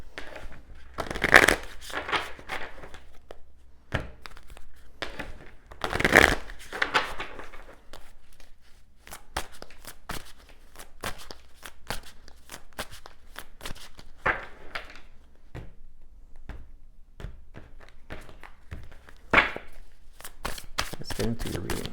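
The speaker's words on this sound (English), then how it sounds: "I'm just going to shuffle" Tarot cards being shuffled by hand, scattered soft card slaps and papery riffles with a few louder bursts, spread over a long stretch with intermittent speech.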